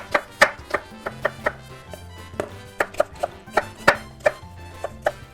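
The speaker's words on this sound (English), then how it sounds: "Okay, we're going to cut this yellow onion." A knife chops a yellow onion on a cutting board in a quick series of sharp, close knocks at an uneven rhythm, about fifteen strikes with brief pauses between them.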